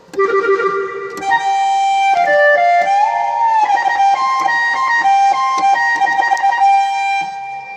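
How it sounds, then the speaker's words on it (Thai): A Phu Thai pipe voice played on a KORG keyboard, sustained reedy melodic tones sliding between pitches with ornamented bends, loud and continuous for several seconds, alone. "เสียงปีภูไทย"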